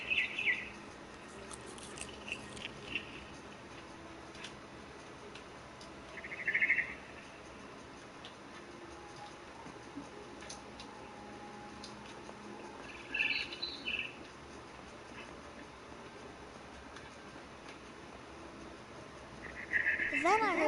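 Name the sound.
barn swallow chirping in video game What Remains of Edith Finch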